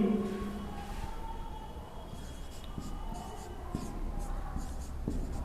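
Chalk or marker scratching on a board during a Hindi physics lecture on ray optics, soft intermittent strokes with a low room hum beneath.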